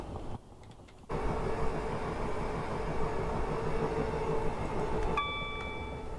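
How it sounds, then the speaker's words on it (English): A three-car Class 320 train in the Train Sim World 2021 game rolls past on the suburban Glasgow line, a broad, steady rumble that rises sharply after a brief lull, with a tonal whine entering near the end. "is that a train? Oh yeah, there you go, 3 car set"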